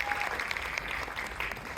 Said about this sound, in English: let's clap for him anyways